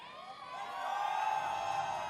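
An esports arena crowd cheers for team Reciprocity at the Gears 5 Esports San Diego Major grand finals, a broad roar that swells and holds steady, heard alone without talk.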